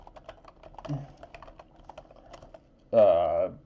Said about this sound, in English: you're going to hear my keyboard clacking for a second.